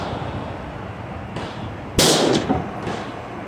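A PSA AR10 rifle in .308 fires a Norma 150 grain soft point round at a 50 yard range, one sharp loud crack with a softer report just before it, over background noise.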